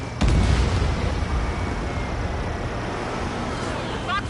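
A missile launch and a blast in the jet-combat game Ace Combat 7, a sudden loud boom opening into a long rumbling roar that fades gradually, with a brief crackle near the end.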